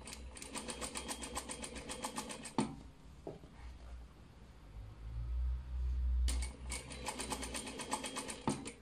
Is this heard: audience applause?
no